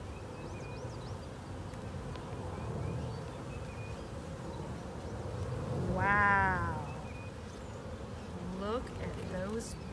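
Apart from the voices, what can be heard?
honeybees buzzing during a beehive inspection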